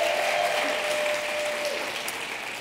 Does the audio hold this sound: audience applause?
yes